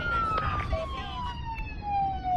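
An ambulance siren wails with a long descending tone, heard during a Valorant esports watch-party stream, fairly faint against low background rumble.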